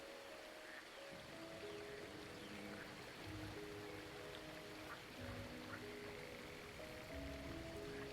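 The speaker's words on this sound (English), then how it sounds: "Look at this water." Flowing stream water in the game Skyrim, a steady, soft rushing wash with trickling detail, heard alone over quiet, sparse musical tones throughout.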